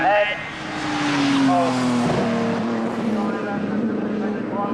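Triumph TR racing cars lapping a circuit in 1995, engine drone rising and falling as cars pass, with a steady nearby roar and a commentator talking over it.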